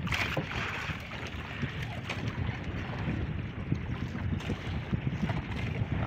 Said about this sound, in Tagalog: Medyo malakas na rin po kasi yung hangin.